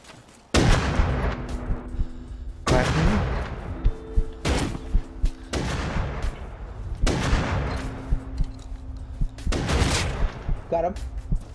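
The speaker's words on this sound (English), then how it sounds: "Everybody shoot at him now." Gunfire in the console edition of the video game Rust: five heavy, loud blasts hit at roughly two-second intervals, each with a booming tail, with voices talking in the background.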